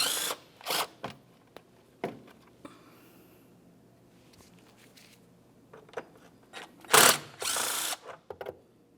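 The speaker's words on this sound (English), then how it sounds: "we'll use a 10mm socket along these two bolts" A hand ratchet with a 10mm socket works the engine cover bolts on a 2004-2015 Nissan Titan, giving irregular bursts of clicking and clacking close by with quiet gaps between, no talking.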